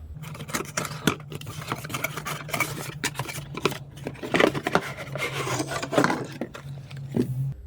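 Cardboard shoe box for Nike Victori One slides being opened up close, with scraping, rubbing and rustling handling noises in irregular bursts and no talking.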